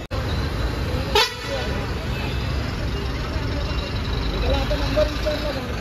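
Busy roadside at a bus stop during a traffic jam, with a single short vehicle horn toot over steady traffic rumble and crowd chatter, and nearby people talking.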